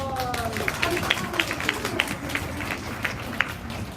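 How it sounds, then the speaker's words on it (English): Scattered, thin clapping from a classroom audience, a handful of separate claps popping above a steady background murmur of voices and room noise. "Yay! Applause!"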